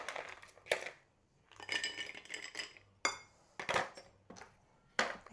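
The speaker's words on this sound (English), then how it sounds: "I dropped a cube." Ice cubes clink and rattle against glass and metal barware in a few separate bursts while a Vesper cocktail of gin is being stirred, with one cube dropped along the way; no talking.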